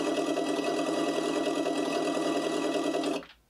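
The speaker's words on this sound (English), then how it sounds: "that should be the idling sound" A steady, buzzing electronic engine idle sound effect from a 1/16 scale RC Freightliner Cascadia truck hums evenly for about three seconds, then cuts off abruptly into silence.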